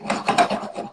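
Fresh black pepper grinds from a hand mill over a dish of sautéing lentils, quinoa and shrimp, a close, dry raspy crunching in several quick bursts across one second.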